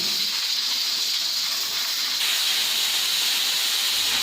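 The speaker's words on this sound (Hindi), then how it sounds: "ये इसकी स्टीम निकल रही है।" Steam hisses steadily from a pressure cooker cooking tomatoes on a stovetop, a loud, continuous high-pitched jet that holds even throughout with no pauses or voices.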